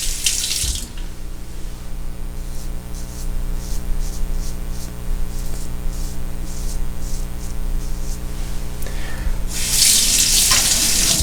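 A bathroom tap runs steadily as a Feather Japanese razor clogged with American Crew shave gel is rinsed under it, with louder splashing bursts at the start and end over a constant low hum.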